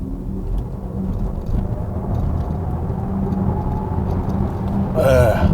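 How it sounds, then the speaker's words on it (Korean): A 2025 Volkswagen ID.4 electric car accelerates in sport mode, producing a low steady cabin hum and road rumble while someone speaks over it. "여기서 스포츠 모드로 두고 조금만 밟아 보겠습니다. 가속 페달 꾹."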